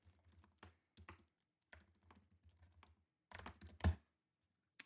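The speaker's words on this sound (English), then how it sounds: "I type in the email address" Bursts of typing on a computer keyboard while an email address is entered, quick runs of close, quiet key clicks separated by short silences, with one louder thump toward the end.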